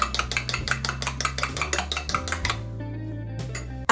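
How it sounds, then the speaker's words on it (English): A fork or whisk beats one egg in a small bowl, giving rapid, rhythmic clinking strokes close up that run fast and even, then stop and leave low background hum. "In a small bowl, crack 1 egg and beat until fluffy and fully broken"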